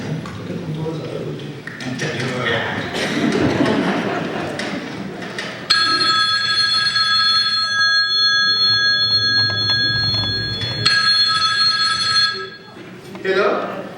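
A telephone bell rings in a Hindi stage play, a bright electric trill in two long bursts, the second shorter and ending the ring, over an audience hush and muffled voices from the stage.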